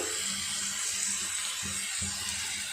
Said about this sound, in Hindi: और उसमें हम थोड़ा पानी डाल देंगे, थोड़ा पानी, जैसे ये अपनी भाप में पक जाए।